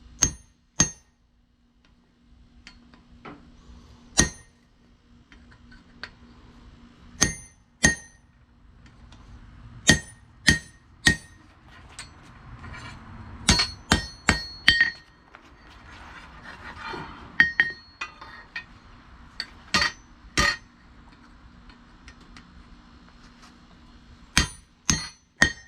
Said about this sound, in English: beat on the anvil, Eric.